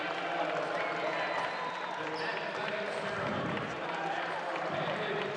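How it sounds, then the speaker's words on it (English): Basketball fans at a men's college game cheer and clap as the final buzzer sounds, a steady crowd roar with a commentator talking over it. "as the fans are cheering"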